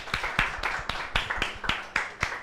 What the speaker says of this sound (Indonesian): Tepuk tangan untuk yang lain dong.